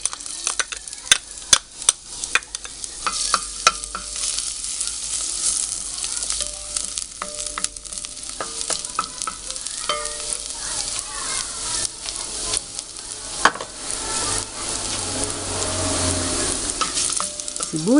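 Garlic sautéing in hot cooking oil for a Filipino chicken soup, a constant sizzle and crackle with clinks and scrapes of a utensil stirring the pan, running steadily throughout.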